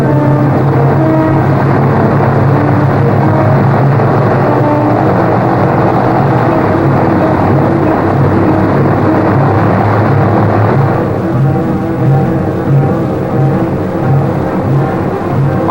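Pan American Boeing 377 Stratocruiser piston engines droning steadily and loud as the big airliner begins to move, a continuous close roar with no voices.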